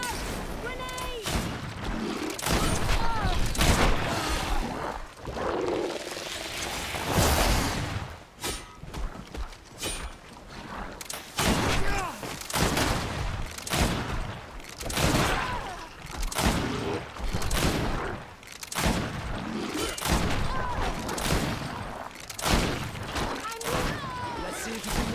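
Repeated volleys of gunfire from a GreedFall battle crack out as sharp bursts across the span, with shouted voices and hoof-like clatter mixed in between the shots.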